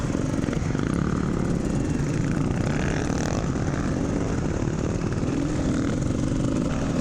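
Dirt bikes riding bush terrain on a charity rally, a steady loud engine drone with buzzing two-stroke character holding at one level throughout, no talking.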